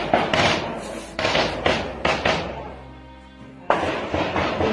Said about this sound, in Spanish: se puede escuchar varias detonaciones